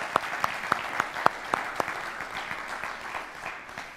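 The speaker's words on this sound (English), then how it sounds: "Yeah, you can clap for that." A church congregation gives a brief burst of scattered claps, a handful of distinct sharp hand claps at first that quickly thin out and fade into a soft patter.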